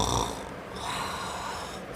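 A voice imitates an elephant snoring, giving a continuous raspy, breathy snore close to the microphone, rising and falling over about two seconds.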